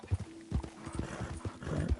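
A horse's hooves clip-clop in a quick uneven rhythm at close range in Red Dead Redemption 2 Online, with a brief whinny-like tone partway through and no talking.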